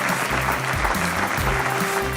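Steady applause rolls through the hall at an Oxford University convocation ceremony, a dense, continuous clapping from a large audience held at even strength throughout.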